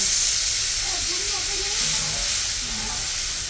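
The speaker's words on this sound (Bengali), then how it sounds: "এখন মশলাটা কষানোর জন্য একটু জল দিয়ে দিল" Water hits a sizzling spice paste of turmeric and green chilli in a hot pan, setting off a loud, continuous hiss and steamy sizzle that fills the whole moment, with a faint voice underneath.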